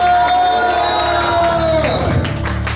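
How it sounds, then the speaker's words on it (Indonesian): A church congregation applauding and cheering at a worship service, a loud, dense wash of clapping and shouts with a sustained tone running through it, filling the space. "Sekali lagi beri tepuk tangan buat Allah kita"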